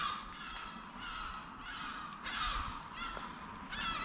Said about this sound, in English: Because the seagulls are like attack dogs here.